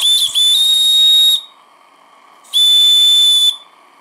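Steam whistle on an Anton T200 live steam boiler gives two steady, shrill blasts of about a second each, separated by a short pause, loud and close with a hissy edge.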